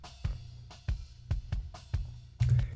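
A punchy DMX drum-machine kick sample reinforced with an SSL sub generator, deep booming thuds hitting in a steady groove about every quarter second, with a brighter, louder hit near the end and no voices.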